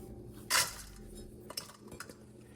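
Capsules are dumped into a small bowl, a single bright clatter and rattle followed by a few faint clinks as they settle.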